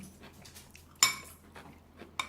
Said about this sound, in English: Put down the chopstick, leave up the spoon